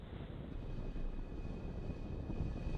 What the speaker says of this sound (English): And liftoff of the Falcon 9 and Starlink.